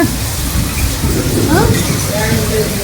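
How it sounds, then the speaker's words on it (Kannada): Heavy rain with hail and strong wind roars steadily and densely throughout in Belagavi, with faint voices murmuring underneath the downpour. "ಆದ್ರೂ ಕಂಡಾಪಟ್ಟಿ ಜೋರಾಗೈತ್ರಿ ಮಳೆ"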